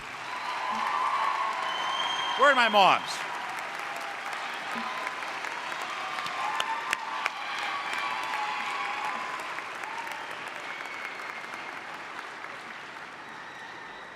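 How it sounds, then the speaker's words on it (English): A large audience at a spring university undergraduate commencement applauds for mothers, a dense, sustained clapping that fills the hall for the whole stretch, with a brief voice calling out early on. "how about we give those moms a round of applause and have them stand?"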